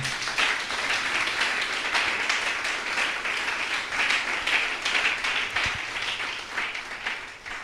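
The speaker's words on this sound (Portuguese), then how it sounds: "Aplauda o seu nome." A church congregation applauds at a worship service, steady dense clapping filling the room without a break, loud and close, with faint voices under it.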